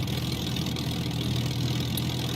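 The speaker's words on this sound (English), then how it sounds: "And the engine sound goes off and on." Steady idle of a Supermarine Spitfire Mk1a engine in Microsoft Flight Simulator, a continuous low droning hum that holds level and even throughout.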